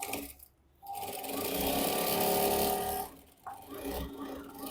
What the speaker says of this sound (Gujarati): આ સિલાઈ આપણે મારી દઈએ સૌ પ્રથમ